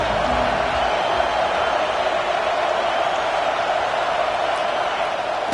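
A roaring stadium crowd in the video game College Football 26 sustains a dense, loud, steady wash of cheering that holds level throughout.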